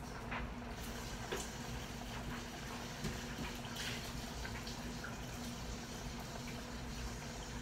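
Running tap water pours steadily into a bowl of cut potatoes being rinsed, a continuous splashing wash with occasional clinks and sloshes, close and even in level with no talking.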